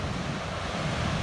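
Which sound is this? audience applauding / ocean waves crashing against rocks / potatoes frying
ocean waves crashing against rocks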